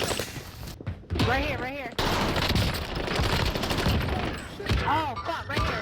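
Rapid automatic gunfire and explosions from Call of Duty in the Rebirth map, dense and loud throughout, with players talking excitedly over the shooting.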